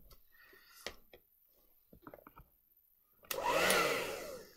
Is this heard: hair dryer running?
yes